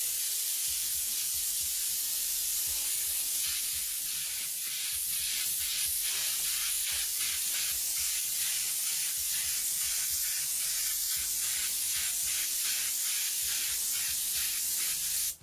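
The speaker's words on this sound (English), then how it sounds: "I get a nice dusting, a wide spray, no streaks or anything" A can of transparent yellow sun gold spray paint hisses in a long, steady burst, laying down a light, wide coat, with a soft fluttering pulse running through the spray.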